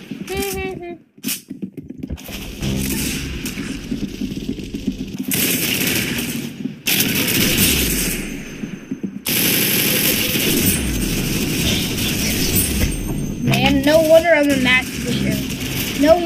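Gunfire in a video game, rapid bursts of shots between pauses with other game noises, while a player talks loudly over much of the action.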